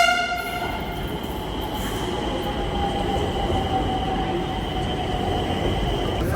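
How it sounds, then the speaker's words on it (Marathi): A Nagpur metro train runs with a steady loud rumble and a high whining electric motor tone that slowly slides downward, heard up close without any talk. "आता आम्ही मेट्रोमध्ये बसणार आहे"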